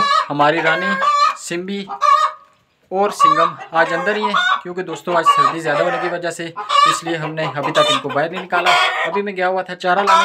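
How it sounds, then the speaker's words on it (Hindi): Hens cluck and squawk loudly in a coop on a cold day, a busy background of fowl noise running beneath someone speaking continuously in the foreground. "अभी आपको पीछे आवाज़ सुनाई दे रही होगी, मुर्गियों ने जो है बहुत ही ज़्यादा शोर मचाया हुआ है"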